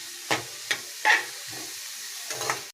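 Tomatoes and onions sautéing for chapati kurma, a spoon scraping and knocking the pan in several separate strokes over a soft, continuous sizzle, no voices.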